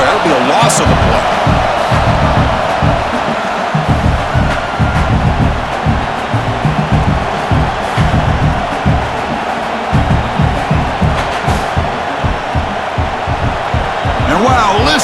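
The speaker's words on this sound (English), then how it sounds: "listen to this crowd noise. This stadium is vibrating." Stadium crowd noise in the video game NCAA College Football 26 during a BYU versus Oklahoma matchup, a loud, continuous roar with rhythmic thumping pulses running throughout, steady and dense for the whole stretch.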